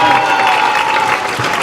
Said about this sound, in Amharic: ለአዶናይ እስኪ ጨብጨብ አድርጉለት።